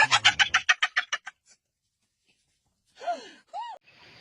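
A crow calls in a rapid run of harsh, evenly spaced caws, then falls silent, followed by two shorter, separate cries close to the recorder.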